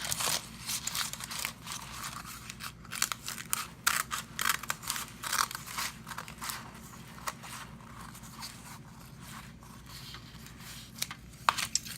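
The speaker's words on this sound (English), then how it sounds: "take some scissors, which I have right here, that are covered in powdered sugar, and just kind of cut them into strips" Scissors dusted with powdered sugar cut homemade fruit roll-up sheets into strips, making close, repeated crisp snips and crinkly rustles in an uneven rhythm.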